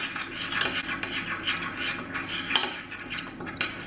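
Turmeric and a little milk are whisked into a paste in a small bowl, a steady, close rubbing and clinking scrape with brief sharper ticks; no voices.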